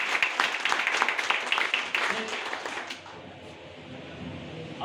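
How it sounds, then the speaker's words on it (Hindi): Scattered clapping from a seminar audience at a business plan presentation, brisk at first and then thinning out to near quiet after about three seconds. "एक जबरदस्त तालियां"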